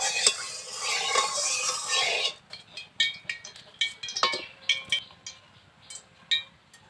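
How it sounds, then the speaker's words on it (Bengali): Oil heating in a kadai for Mughlai paratha, first a broad hissing sizzle, then a run of sharp metallic clinks and scrapes as a spoon stirs against the pan, close and clear. "তেলটাকে একটু নাড়াচাড়া করে নিলাম।"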